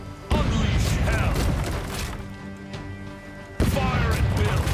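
Ship cannons fire in the pirate video game Rogue Waters, with two heavy, abrupt blasts several seconds apart, each followed by a rumbling tail, over game music.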